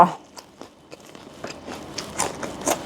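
Fresh, crunchy dates are bitten and chewed up close, giving a sharp initial crack followed by a series of moist, crisp crunches that grow louder toward the end.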